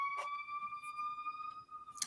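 A siren wails in the background as a steady, sustained tone that holds evenly through the clip, with a few faint clicks around it.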